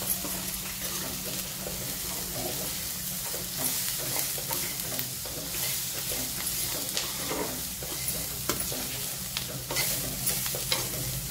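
Snake gourd (padwal) sautéed in hot oil, with a continuous close sizzle broken by repeated scraping and clattering stirring strokes at an uneven rhythm, fairly loud with no voices.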